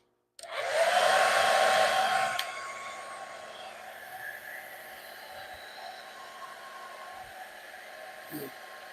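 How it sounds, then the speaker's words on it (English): A hair dryer on its cool setting, used on a plastic baby shower sign, blows loudly for about two seconds, then drops to a softer, steady airflow hum. "So I'm going to use my dryer on cool because you don't want it to melt."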